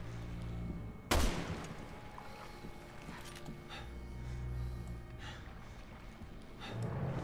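A single loud gunshot blast in the video game Resident Evil 6, sharp and close, followed by quieter rumbling game ambience with faint distant pops.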